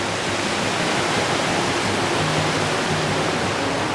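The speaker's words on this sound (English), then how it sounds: "But that waterfall" A waterfall and a brook run beside a wooded peninsula, a loud, steady rushing roar that fills the whole stretch without pause, with no talk.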